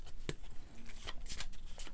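A deck of playing cards for the Etherfields board game being shuffled by hand, a quick series of soft riffling snaps and flutters, close and fairly quiet.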